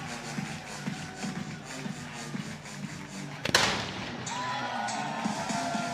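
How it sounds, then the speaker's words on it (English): A single sharp, loud cannon boom celebrating a home run cracks out midway through a college softball game, standing out against a steady crowd murmur in the background. "Complete with cannon fire."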